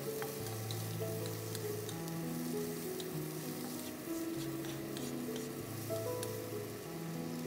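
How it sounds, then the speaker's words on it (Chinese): Carrot and garlic stir-fry in a wok with a steady, dense sizzle and crackle that holds level throughout, with faint scraping from the stirring and no voices. "翻炒。"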